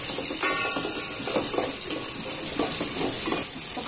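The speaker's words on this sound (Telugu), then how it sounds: "క్యారెట్ క్యాప్సికమ్ బీన్స్ వేసి ఫ్రై చేసుకుంటూ ఉండాలి" Carrot, capsicum and beans frying in a pan for a spicy gobi veg biryani, a close, steady sizzle with light stirring scrapes throughout and no talking.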